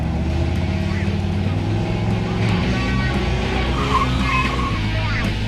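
A car engine with an MSD 6AL-2 ignition box held steady against its two-step rev limiter at 4,000 RPM, a loud continuous drone with a rattly, stuttering edge running throughout without a break.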